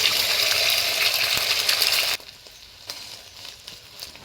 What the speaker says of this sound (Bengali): কড়াইয়ে দিয়েছি তেল, ডিমটা ভেজে নেব